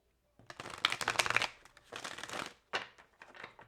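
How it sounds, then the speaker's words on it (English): Tarot cards being shuffled by hand in a few bursts of papery riffling and sliding, close and fairly loud, with short pauses between bursts and no talking. "One more shuffle, Spirit."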